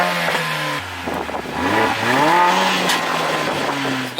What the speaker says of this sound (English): What we're gonna do is give this car start up revs and compare it to the M140i.